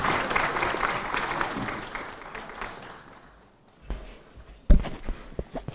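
An audience at a television channel's annual convention in Odisha claps after a speech: dense, lively applause that thins and fades over about three seconds, followed by a few scattered claps and knocks.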